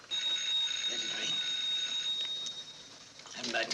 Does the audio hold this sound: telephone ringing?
yes